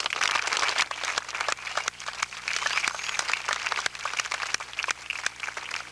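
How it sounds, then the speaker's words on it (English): Applause from the audience at a 1988 high school graduation ceremony: a crackly wash of many hands clapping, fairly distant and steady, with some louder individual claps standing out. "You also give them applause."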